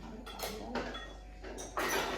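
Metal utensils clink and clatter a few times in quick bursts, close by, against a low steady background hum.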